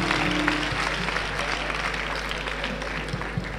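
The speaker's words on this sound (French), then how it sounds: "Acclamation à Jésus-Christ." A church congregation at a French worship service bursts into steady, dense applause and acclamation, loud and sustained throughout with faint voices mixed in.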